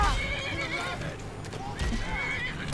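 A horse whinnies in the Skyrim Dawnguard video game, a short rising neigh mixed with game sounds and background music while a person talks over it.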